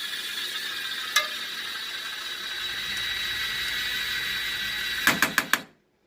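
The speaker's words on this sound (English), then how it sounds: "Now you're going to take the adjusting screws out if you're taking it out completely." Headlight adjusting screws being backed out with a T20 star bit on an F250 headlight assembly, a single ratchet click early on, then a quick burst of four sharp clicks near the end over steady background hum.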